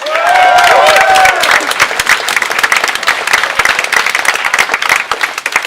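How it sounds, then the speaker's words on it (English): Live comedy show audience applause, a burst of loud clapping with a few cheers at first, then continuing as scattered, uneven clapping from the crowd. "a round of applause, please?"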